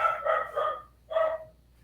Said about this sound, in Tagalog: Yung aso.